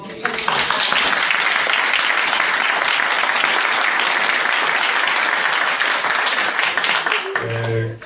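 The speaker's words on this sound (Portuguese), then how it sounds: "Esse aplauso vão para as duas candidatas." Audience applause after the vote declaring an election result for a public ombudsman post, steady dense clapping filling the room for about seven seconds before fading, with a brief voice at the very end.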